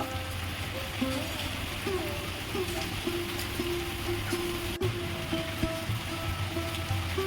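Palm fruit fritters (taler bora) fry in hot oil, giving a steady, close crackling sizzle with soft bubbling pops that runs evenly throughout.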